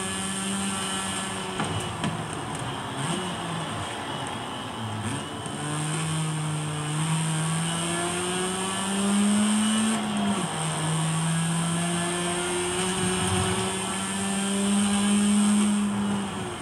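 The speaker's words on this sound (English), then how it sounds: "That's the sound of a rotary engine" A rotary-engined race car in the video game Forza Horizon 5 drones at sustained high revs, its pitch rising and dipping through gear changes, loud and continuous.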